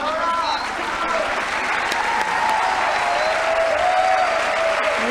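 Sustained audience applause fills a hall at a national social work congress, a dense steady wash of clapping running throughout, with voices mixed in underneath.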